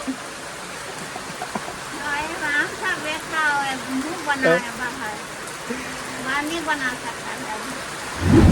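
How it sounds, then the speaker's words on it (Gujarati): Evening rain begins falling in a Gujarati village, a constant soft hiss close around while a person talks over it throughout. "અહીંયા વરસાદ શરૂ થઈ ગયો"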